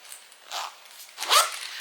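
Zipper on the back pocket of a fabric pouch with wristlet strap, pulled in two short zips, the second louder and brighter, close up with no talk.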